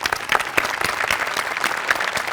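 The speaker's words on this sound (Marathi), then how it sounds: "तुमच्या सगळ्यांसाठी एकदा टाळ्या." A studio audience claps for the cast of a Marathi comedy show in a dense, steady round of applause. The sound is full and sustained, with sharper bursts rising through it and no talking over it.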